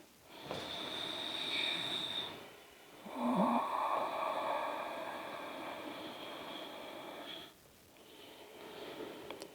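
Long, slow breaths are drawn in and pushed out during a yoga warrior pose. They are loud, airy and close, with a raspy snore-like texture, and a short pause separates them.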